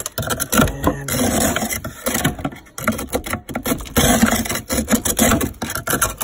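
Chiseling ice off a frozen-over ice machine in a Samsung French door refrigerator, heard as continuous rough scraping and rasping strokes up close, steady throughout with brief pauses.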